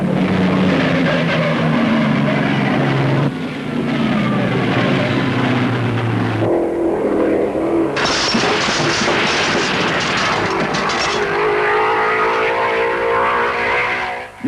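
Maserati race cars roaring around an aerodrome road circuit lined with straw bales, a loud, continuous engine drone that rises and shifts in pitch as the cars pass, with no voices.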